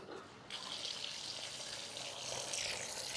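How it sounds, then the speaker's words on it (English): Water rushes from a threaded tub spout with a spring-loaded diverter, starting abruptly after a brief quiet and continuing as a steady close splashing hiss that swells slightly toward the end. "let's run some water through it and show you how it works"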